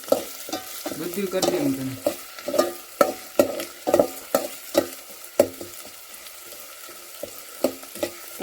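Biryani rice and onions in oil are stirred in a pot over a traditional clay stove, with rhythmic close scraping strokes over a low sizzle, and a voice speaks briefly.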